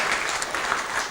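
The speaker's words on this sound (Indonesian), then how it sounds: "Kita beri tepuk tangan buat dua pembicara kita" An audience at a discussion forum gives steady, continuous applause for two speakers, a dense wash of many hands clapping at moderate volume with no voices on top.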